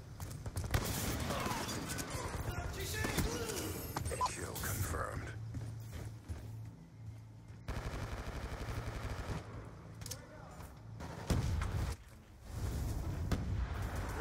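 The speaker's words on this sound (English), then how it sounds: "Let's go there with the shotgun then." R870 MCS shotgun firing in Black Ops 2, several loud booming blasts amid chaotic multiplayer gunfire and explosions, with players talking over the action.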